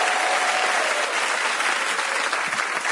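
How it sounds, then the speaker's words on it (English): Comedy club audience applauding as a stand-up act is welcomed onstage, a full, dense roar of clapping held at a constant loud level for the whole stretch. "That's a lovely round of applause."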